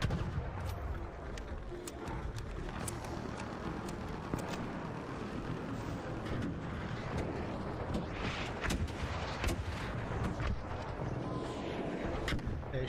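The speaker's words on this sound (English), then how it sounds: "here come the rockets" Rockets fire in a tower defense video game, a dense continuous barrage of booming explosions and rapid cracks, loud and steady throughout with no talking.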